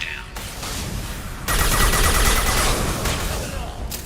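Gunfire rattles through a firefight in Mass Effect 2, rapid close bursts and bangs layered over a continuous roar, with a voice talking over the shooting.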